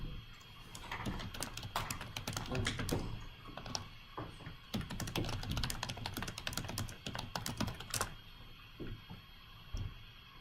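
Rapid, uneven clatter of fingers on a computer keyboard, close and fairly loud, with bursts of keystrokes separated by brief pauses in a classroom-like room.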